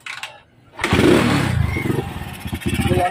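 A motorcycle engine runs up close after a brief quiet gap, with a steady rough idle and some mechanical clatter, at night on a bike without a center stand.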